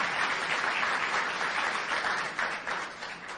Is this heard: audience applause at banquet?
yes